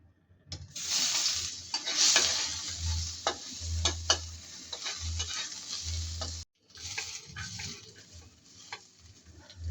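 Tofu fries in a pan with close, crackling sizzle and intermittent stirring scrapes and clatters, loud bursts of oil spatter, one brief cut in the middle.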